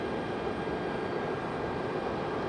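A Copa airliner on downwind approach to Raleigh-Durham airport gives a steady, distant jet engine rumble that holds even throughout.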